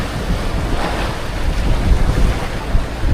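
Big Pacific Ocean waves surge and crash continuously at sea, mixed with heavy wind buffeting the microphone, loud and close, with no voices.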